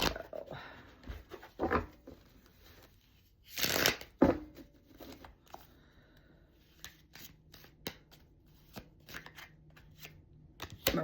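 Tarot cards being shuffled for a reading, with crisp riffling and flicking bursts in quick irregular runs, close and fairly quiet, separated by brief pauses.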